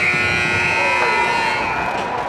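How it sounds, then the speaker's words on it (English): A period-end buzzer sounds at a high school hockey game between Martha's Vineyard and Somerset Berkley, a loud sustained electronic tone ringing over arena crowd noise. "Buzzer sounds, and we're done with 1 period of play"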